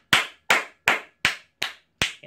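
Six slow, evenly spaced hand claps ring out sharp and close, each one alone with a short decay and silence in between, and no voices present.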